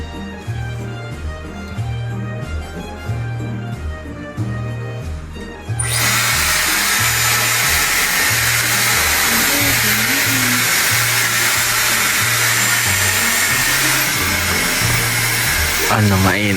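A Dyson Airwrap hair styler roars into a loud steady blow of air after a few seconds of background music, then keeps running under the music with brief voices in the background.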